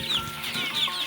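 Chickens on a poultry farm cluck and chirp continuously in a busy overlapping chorus, close and fairly loud.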